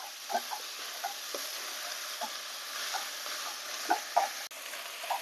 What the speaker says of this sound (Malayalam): 3-4 മിനിറ്റ് ഒന്ന് ഇങ്ങനെ തന്നെ വെച്ച് ഇളക്കി ഒന്ന് യോജിപ്പിച്ചെടുക്കണം.